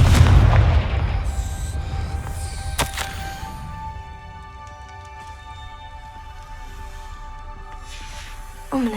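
A Confringo fire spell blasts in Hogwarts Legacy, a sharp explosive crack near the start followed by a booming burst that decays into a lingering magical shimmer and low rumble, with no voices.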